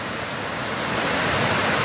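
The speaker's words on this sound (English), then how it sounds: "this is a really interesting waterfall" Great Falls of Tinkers Creek pours over crumbly Cleveland shale in a steady, dense, broadband roar that holds unbroken and close throughout, with no voices.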